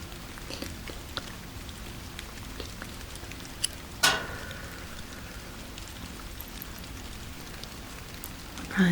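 Steady rain falling outdoors while the sun shines, a soft continuous patter with drops on surfaces throughout, joined by a single sharper tap or knock partway through.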